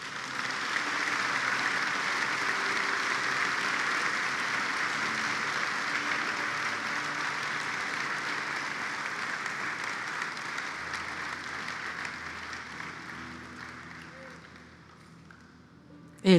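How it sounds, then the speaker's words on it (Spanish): A church congregation claps during a Spanish-language sermon, a full, sustained round of applause that holds steady for many seconds and then gradually fades away. "yo quisiera que le demos un aplauso a nuestro Jesús"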